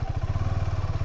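A motorcycle engine idles close by with a steady low rhythmic throb while the bike is being moved aside at a roadside tea stall during a couple's ride in Northeast India.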